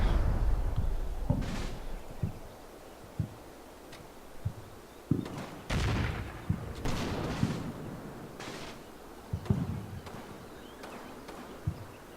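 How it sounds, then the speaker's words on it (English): Scattered gunfire and heavy artillery-like blasts from the Company of Heroes 2 battle, at the Stavelot defense against an American armor column, crack irregularly over a steady low battlefield rumble, some shots close and loud, others faint and distant. "These guys are all firing down on these people now."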